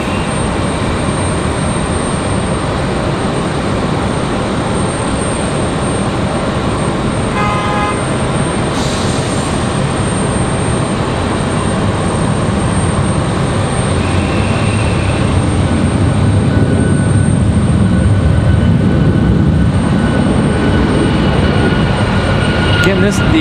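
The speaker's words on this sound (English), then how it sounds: "Here comes Alaska Airlines, Alaska 572 back to their base in Seattle" An Alaska Airlines Boeing 737 MAX 9 jet passes with a steady, broad engine roar over stormy airport weather at Raleigh-Durham, loud and continuous throughout, with a brief horn-like toot partway and faint talk beneath.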